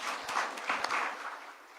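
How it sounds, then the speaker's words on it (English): Sustained applause from an audience at an engineering excellence awards ceremony, a dense, steady wash of clapping that holds at an even level throughout, with no voices rising above it. "let's all give them a very big round of applause"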